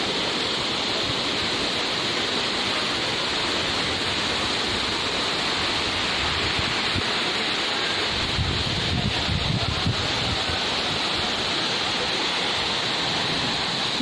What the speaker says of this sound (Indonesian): Ya, itu curugnya, Curug Balong Kiara. Pancuran.